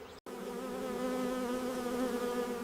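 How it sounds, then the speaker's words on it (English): Honeybees buzzing inside a beehive, a steady, close, humming drone that holds evenly throughout with no voices. "Welcome to the inner world of the beehive."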